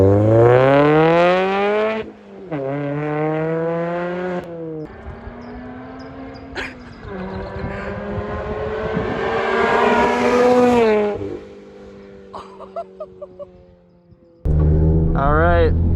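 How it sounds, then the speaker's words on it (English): A Mazda ND Miata fitted with Goodwin Racing headers passes close and very loud. The exhaust rasps hard under acceleration, then pitches down, bursts of crackle follow on lift-off, and a final loud blast sounds near the end. "do a flyby right now so I can get a outside clip of what it sounds like"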